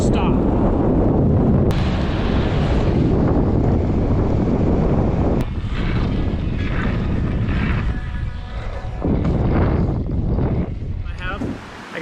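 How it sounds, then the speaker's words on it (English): Strong wind roaring across the microphone while riding downhill in the mountains, a loud and constant buffeting rush that swells and dips, with no voices. "I am going downhill and the wind just pushed me to a full stop."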